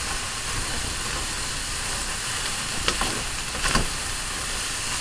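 Garlic fries in hot oil as it is stirred, giving a steady bright sizzle with a few brief scraping stir noises near the end.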